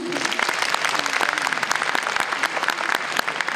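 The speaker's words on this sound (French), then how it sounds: "petit test d'applaudissement" An audience applause test at a voice-acting panel during a gaming convention in Toulouse, a crowd clapping hard and fast in a thick, even burst, with a faint voice briefly audible at the start.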